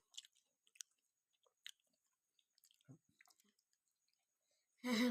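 Someone chewing a bite of cooked beef larb, faint wet clicks and soft squishy bites spread sparsely through near silence, ending with a sudden loud voice sound.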